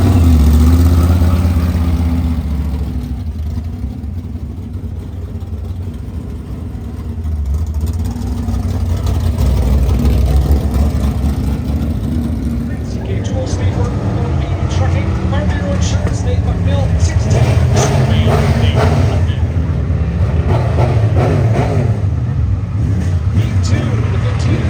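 Race cars run a heat race at Deer Creek Speedway, a loud, continuous engine roar swelling and fading as the cars pass. A person talks over the noise throughout.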